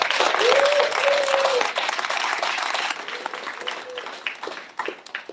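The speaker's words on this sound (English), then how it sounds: "I want to ask the audience to give another big round of applause." An audience at a lecture-series event claps loudly in a full round of applause, with a brief voice or cheer early on, before the clapping thins and fades into scattered claps.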